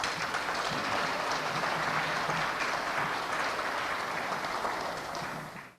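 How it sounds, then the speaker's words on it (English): Gala audience applauding sponsors at the A.D. King Youth Empowerment Gala and Awards, a steady, fairly distant wash of many hands clapping that holds evenly before fading out at the end. "Please give them a round of applause."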